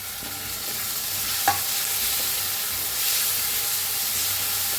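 Ground green chili and garlic paste frying with roasted onion in a pan, a steady close sizzle and hiss throughout, with one brief clink of a utensil.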